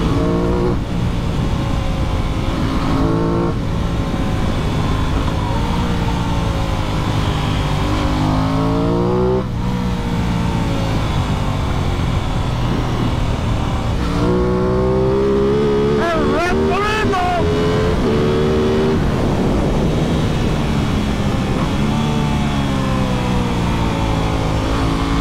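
An Aprilia Tuono 660 motorcycle accelerating on a ride toward Şile, its engine droning loudly and climbing in pitch through several gear changes under steady wind noise, recorded from the rider's position.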